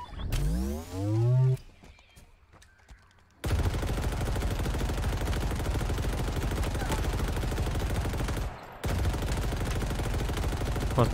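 Halo Infinite gameplay opens with a rising whooshing burst. After a short quiet stretch, dense, continuous automatic gunfire and battle noise take over, loud and sustained, with a brief drop near the end before the firing resumes.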